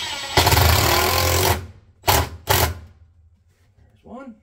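A power driver with a T25 bit sinks a screw into a wall stud: one sustained buzzing run, then two short, sharp bursts, followed by a brief vocal sound.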